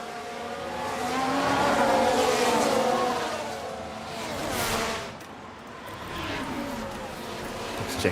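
Formula 1 race cars in the F1 Manager 24 racing game at a China sprint weekend, engines droning steadily with rising and falling pitch as cars pass, loud and continuous with no talking.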